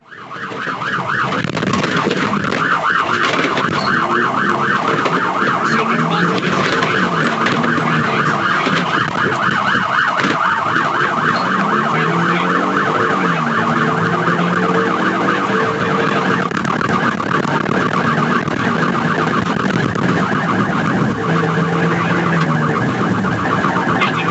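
A police car siren wails continuously and loudly through a high-speed chase after a stolen red car, its steady cycling tone over road and engine noise, with no talking.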